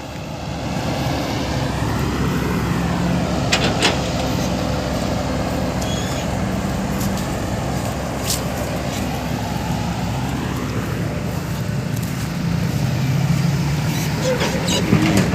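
Powerful cars roll into a car show with loud, continuous engine roar and rising revs sweeping up and down, punctuated by a few sharp clicks and bangs in a noisy outdoor crowd.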